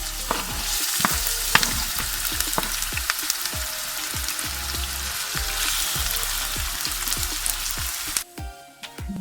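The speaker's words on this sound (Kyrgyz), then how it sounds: "Пияз салып кууруп алабыз." Chopped onion fries in vegetable oil in a frying pan, a steady close crackling sizzle with regular clicks and scrapes of stirring, cutting out abruptly near the end; no one talks.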